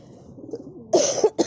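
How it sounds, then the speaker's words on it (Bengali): Two harsh coughs up close, a longer one followed quickly by a shorter one, after a moment of quiet background. "আমার এদিকে খুব প্রচণ্ড কাশি।"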